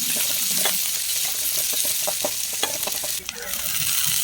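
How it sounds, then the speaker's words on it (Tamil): Crushed spices sauté in oil for a ponnanganni greens stir-fry, giving a steady, close sizzle with frequent scraping and tapping from stirring throughout. "எண்ணெயிலே நல்லா வதக்கிக்கணும், பச்சை வாசம் போகிற அளவுக்கு வதக்கிடணும்"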